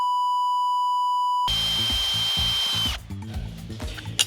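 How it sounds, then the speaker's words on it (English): A power drill bores holes to mount an ECU in a PT Cruiser, a loud whining drive for about a second and a half before it stops, followed by clunks and handling noise, after a steady test tone at the start. "So I'm gonna start with a smaller drill bit, and then I'll work my way up to a bigger one."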